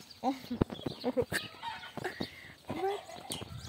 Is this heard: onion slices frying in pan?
no